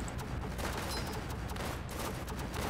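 A machine gunner unit in the tower defense game Northend Tower Defense lays down continuous rapid gunfire, a dense fusillade of overlapping shots that runs fairly quietly and steadily for the whole stretch.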